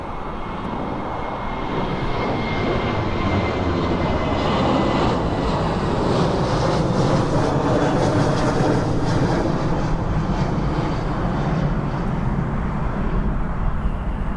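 A Boeing 777 airliner takes off at East Midlands Airport, giving a loud, steady jet roar that swells slightly and holds for the whole stretch, broad and continuous with no voices over it.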